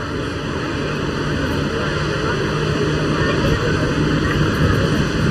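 A Jet Pitts aerobatic aircraft makes its final pass at the English Riviera Airshow, a steady broadband engine roar that stays loud and even throughout with no distinct approach or fade.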